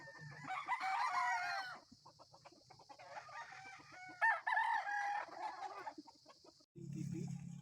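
Young gamecocks (stags) kept in boxes crow and cluck repeatedly, several overlapping calls close by and fairly loud, with short pauses between bursts.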